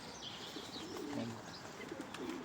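Pigeons coo in a steady, close chorus while being fed outdoors in Ireland, with soft chirps and faint wing flutters woven through the low, rolling calls.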